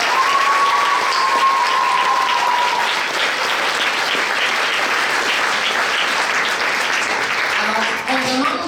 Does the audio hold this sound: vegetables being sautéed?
no